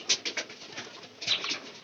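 A white pigeon coos softly in a few short, rounded bursts, close by and alone.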